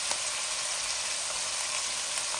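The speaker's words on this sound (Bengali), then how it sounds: "এই তরকারিগুলো একটু, সবজিগুলো ভাজা ভাজা হোক" Vegetables fry in a pan with a steady, even sizzle and crackle that carries on without a break, close up and with no talk over it.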